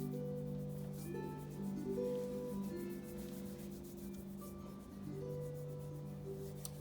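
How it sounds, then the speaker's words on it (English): Palms rubbing briskly together during a seated tai chi routine, a soft continuous swishing friction held at steady volume over a low sustained musical background. "Rub those hands together again."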